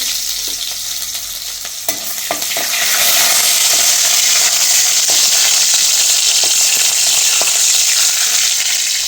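Loud, steady sizzling of red shallots frying in hot oil after mustard seeds have popped, with a few clicks of a spoon stirring the pan before the hiss swells and holds.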